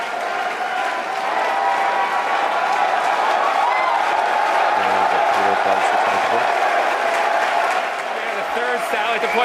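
A large crowd applauds and cheers steadily and loudly at a Falcon 9 first-stage landing, a dense continuous roar of clapping and voices lasting throughout.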